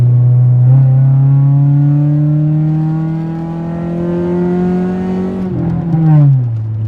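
A car engine revs steadily upward in pitch for several seconds, then drops off sharply as the throttle is released, loud and close with no talking.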